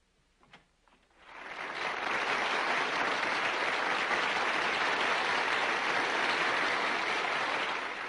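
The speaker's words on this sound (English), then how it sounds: "The applause you hear is for Governor Shivers" An audience bursts into applause for a governor at a gathering in a 1950s oil boom town, rising quickly after a quiet moment with a few early claps into sustained, dense clapping that continues to the end.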